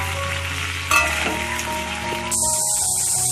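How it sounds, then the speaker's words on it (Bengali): Large potato chunks fry in hot oil on a gas stove, giving a steady loud sizzle with a brief stirring clatter and a brighter hiss toward the end. "গ্যাসে কিন্তু ওই তেলের মধ্যে এরপর আলুগুলোকে ভেজে নেবো।"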